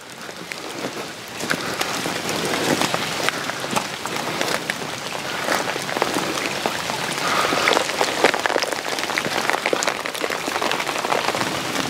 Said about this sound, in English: with all the rain